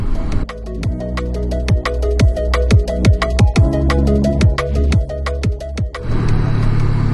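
Honda CB500X motorcycle engine revving hard as the throttle is twisted on winding roads in Istria, Croatia: repeated rising surges with quick shifts between them, loud and close throughout, settling near the end.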